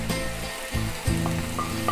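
Shrimp sizzle in a hot wok during a Chinese stir-fry, a close continuous crackle under a low hum with small bursts as the food is moved.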